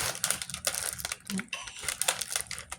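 A resealable plastic zipper bag crinkles and rustles as it is handled, in quick close crackling bursts, with a voice briefly heard in the background.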